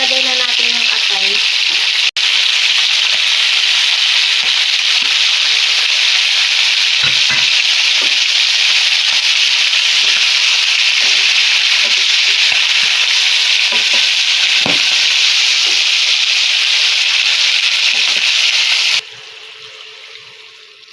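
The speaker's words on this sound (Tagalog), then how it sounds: "medyo naprito na yung chicken" Chicken fries in a pan for Filipino adobo, a steady loud sizzle and crackle running unbroken for most of the time before dropping away near the end.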